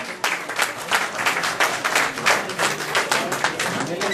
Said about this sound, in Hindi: इसके लिए भी तालियां